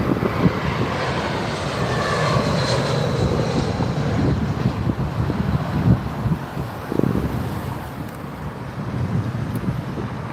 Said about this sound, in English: Right, British Airways A319.